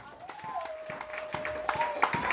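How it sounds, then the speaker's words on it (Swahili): A church congregation claps in victory, with scattered, uneven hand claps building under a sustained voice or tone, fairly faint and close, with the clapping growing denser toward the end. "Piga makofi ya ushindi."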